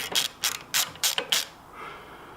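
A twist socket ratchet backs out a rounded-off bolt with five quick, crisp clicking bursts in a steady rhythm, close and clear, followed by a brief quiet scrape.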